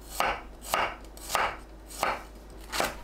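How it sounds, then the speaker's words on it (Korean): A knife chops garlic into slices on a cutting board, five crisp, evenly spaced cuts landing at a slow regular rhythm, close and fairly quiet. "마늘을 편으로 썰어주세요."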